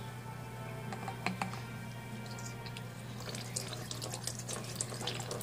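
A Baby Alive toy doll releases water, producing a thin, faint trickle and scattered drips close by over a low steady hum.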